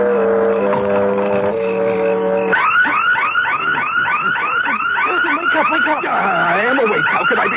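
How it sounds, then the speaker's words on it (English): A burglar alarm in an old radio drama, first a steady buzzing tone, then a loud rapidly warbling electronic wail that repeats in even cycles and fills the scene alone. "It's the burglar alarm."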